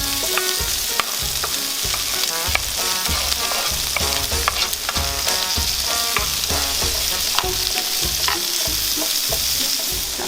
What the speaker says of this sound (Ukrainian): Підчеревина підсмажилася вже, кидаємо цибульку, щоб піджарилася.